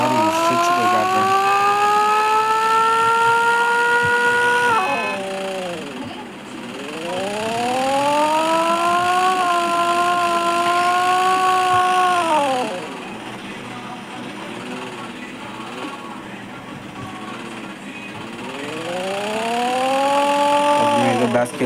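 Engine of a car in a mobile city-block driving game, rising in pitch in three long revving sweeps that fall away between them, steady and close, with a voice talking over the gameplay.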